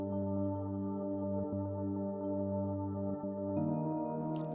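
A sustained, mellow bell synth tone with soft bell-like harmonics and the high end filtered out, shifting pitch near the end before a brief bright click.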